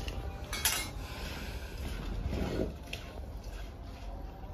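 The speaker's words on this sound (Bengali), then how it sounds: "সব মাখিয়ে হাতে করে মাখিয়ে দিই" Chicken is worked together by hand in a metal pot with bay leaves, dried red chillies, whole cumin and mustard oil, making soft squelching and rubbing sounds and an occasional clink against the pot.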